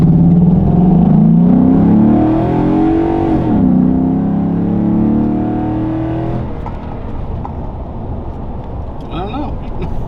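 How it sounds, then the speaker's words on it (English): A Ford F-150 with the 5.0 engine, fitted with a BBK 90mm throttle body and catch can, accelerates at full throttle from a stop, its rising roar climbing through a gear change before easing off, heard from inside with talking over it. "I'm just gonna go from brake to fully matted."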